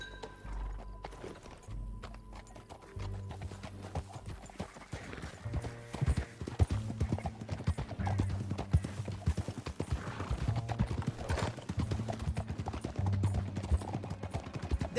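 Horse hooves clip-clop steadily in Red Dead Redemption 2, a rhythmic galloping beat with occasional whinnies over low in-game music, with no talking.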